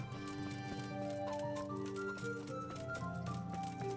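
A horse in the medieval role-playing game Kingdom Come: Deliverance, soft hoof clip-clops under a steady, tonal game music bed, faint and close.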